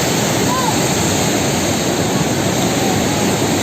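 Loud, steady roar of river water surging through the Koshi barrage in Nepal, a dense continuous rush that fills the whole clip with no break.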